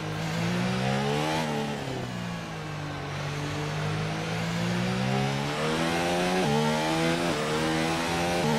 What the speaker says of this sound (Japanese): なんかエンジンおかしいぞ